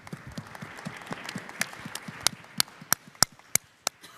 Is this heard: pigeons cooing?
no